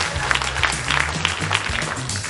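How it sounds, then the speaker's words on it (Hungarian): Audience applause for stage volunteers at a mentalist's show, a steady dense patter of clapping hands filling the room, with crowd murmur underneath. "Egy nagy tapsot kérek az Önként jelentkezőknek"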